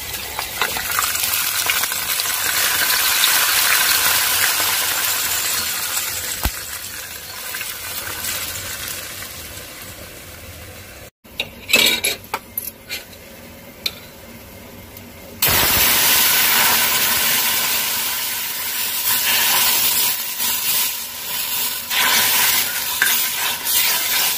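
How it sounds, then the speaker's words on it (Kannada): Hot tempering with whole dried chillies poured into a pot of bassaru sambar, a loud rushing sizzle that fades, breaks into sputtering crackles mid-clip, then surges back into a strong steady hiss. "ಈಗ ನಾನು ಇದನ್ನು ಸಾಂಬಾರೊಳಗಡೆ ಹಾಕ್ತಾ ಇದ್ದೀನಿ"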